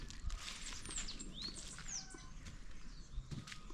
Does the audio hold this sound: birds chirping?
yes